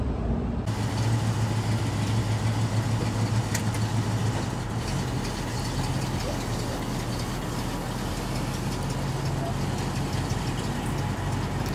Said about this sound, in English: Tristan is going to drive the picture car, which is our 70s Mustang